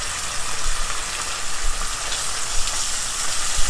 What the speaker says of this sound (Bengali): মশলাটা ভালো করে কষাতে হবে, গন্ধটা চলে যা পর্যন্ত